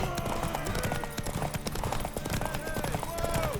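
Quick rhythmic hoofbeats of a galloping horse amid a busy soundscape in the video game The Witcher 3: Wild Hunt, with voices talking over the hooves.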